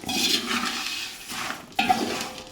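Puffed rice (mandakki) tossed with a little salt in a pot or bowl, giving a dry rustling, clattering scrape that runs on and off, with a sharper utensil knock near the end and no talk.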